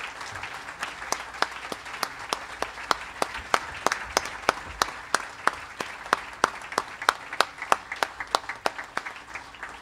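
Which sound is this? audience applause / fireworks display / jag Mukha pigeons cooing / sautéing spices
audience applause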